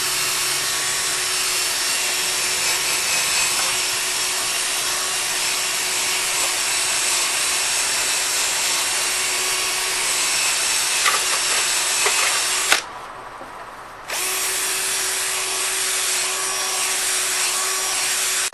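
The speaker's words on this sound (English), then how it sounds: "So I've just finished sanding with the 800 grit disc." A disc sander with an 800 grit pad grinds steadily across the acrylic headlight of a Volvo 240 held in a lap. The close, continuous whirring hiss stops briefly near the end, then resumes.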